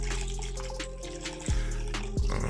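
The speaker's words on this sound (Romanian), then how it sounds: "punem apa acum până sus" Water is poured into a drinking glass to fill it to the top: a continuous trickle with rising tonal ringing and a couple of short gurgling glugs, close and fairly loud.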